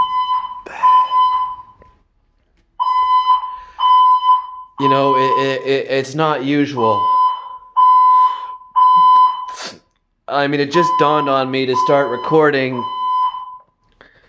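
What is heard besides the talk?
building fire alarm going off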